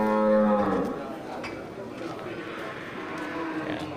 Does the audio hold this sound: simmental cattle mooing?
yes